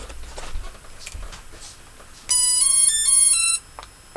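A drone powering on gives a bright electronic startup jingle of a few quick beeping tones lasting about a second, loud against quiet handling noise before and after.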